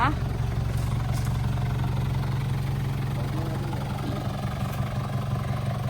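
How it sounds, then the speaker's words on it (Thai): A 2005 Nissan Big M truck's TD25 diesel engine idles with a steady, deep throb, close by and constant throughout. "เครื่องยนต์ดีเซลนะคะ"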